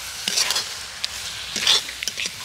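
Coconut naru mixture with jaggery is stirred in a pan over medium heat, producing close, irregular scraping strokes over a light sizzle, with no talking.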